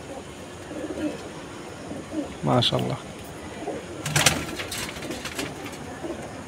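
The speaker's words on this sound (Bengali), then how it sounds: "এই যে কবুতরটা, চমৎকার একটা কবুতর।" Imported Chinese pigeons, a female among them, coo in a low murmur through a pigeon loft, with short bursts of nearby male speech breaking in over the birds.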